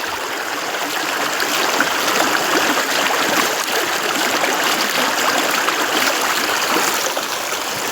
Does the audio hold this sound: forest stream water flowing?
yes